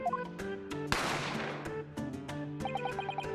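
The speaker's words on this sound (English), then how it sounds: "A gunshot rang out" A single sharp gunshot from The Great Ace Attorney video game cracks out and decays over a second, set against ongoing game music with steady melodic notes.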